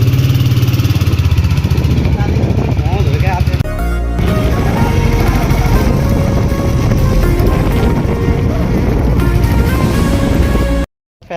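A brand-new motorcycle's engine runs close by with a steady, throbbing idle that holds for the whole stretch, while someone talks over it.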